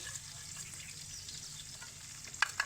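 Steady soft sizzling of bitter gourd pieces frying in oil, low and continuous, with a couple of faint clinks near the end.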